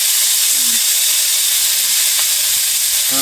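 Onion fries in a pan with ginger and cumin paste, a loud, constant sizzle and steamy hiss holding steady throughout, with faint clinks of stirring beneath.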